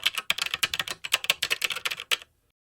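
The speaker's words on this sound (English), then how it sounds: "Now, type this on the New tab and press Enter." Quick, even keystrokes on a computer keyboard, close and crisp, about twenty clicks in a steady two-second run that then stops dead into silence.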